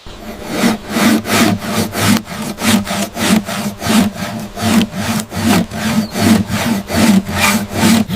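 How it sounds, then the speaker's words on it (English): A hand saw cuts through a thick log outdoors in steady back-and-forth strokes, a loud, close rasping rhythm of about two strokes per second that continues without talk. "The survivalist continues sawing through the thick log"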